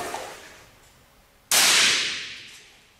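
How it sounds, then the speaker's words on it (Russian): A sharp, loud single shot from a Zoraki HP pneumatic air pistol fired at an indoor shooting range, a sudden crack that decays slowly over the following second and a half after a quiet lead-in. "Отводим вот этот флажок и производим выстрел."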